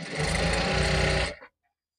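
An electric sewing machine stitches a zipper onto a shirt front placket in a steady, close, loud whirring run of about a second and a half that then stops abruptly, with no talk.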